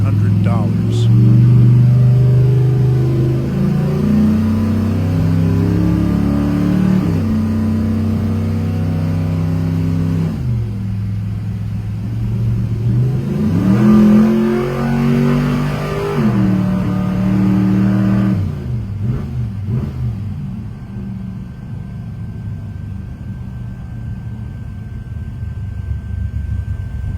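A 1979 Ford Mustang pro street car idles and revs with a deep, rumbling, loud engine note that rises and falls several times nearby, and a voice talks over it.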